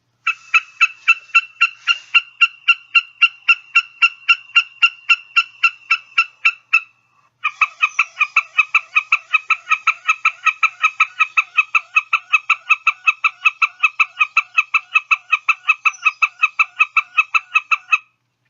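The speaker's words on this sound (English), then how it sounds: "The Wilson snipe produces a high-pitched, like ticking call." A rapid, steady series of sharp, high-pitched ticking notes from a Wilson's snipe calling from a perch, repeating for a long stretch, with a brief pause before the ticking resumes.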